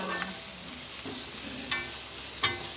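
Ripe saba bananas sauté in a hot pan, a steady close sizzle broken by a few brief scraping stirs and clinks of a utensil.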